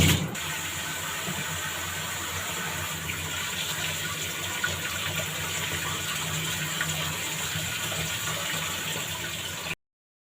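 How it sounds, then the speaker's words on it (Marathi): Tap water runs steadily and close while raw chicken is washed under it for a Sunday non-veg meal, a constant gushing stream with no voices. "तर इथे माझं चिकन धुणं चाललं होतं"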